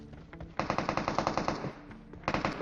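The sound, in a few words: gunfire in a shooter video game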